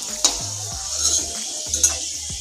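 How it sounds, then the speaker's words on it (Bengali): Garlic and dried red chillies frying in hot oil in a home kitchen, a steady low sizzle under repeated stirring and scraping of a utensil against the pan, no talk. "রসুনগুলো লাল লাল করে ভাজা হয়ে গেছে"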